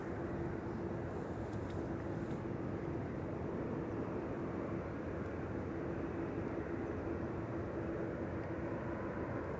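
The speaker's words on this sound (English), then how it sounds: "It's actually Austrian going to Vienna. Disguised as an Air Baltic A220." An Austrian Airlines A220 airliner in Air Baltic colours at Amsterdam Schiphol, a steady broad jet roar heard from a distance, with a faint tonal hum running through it and no break.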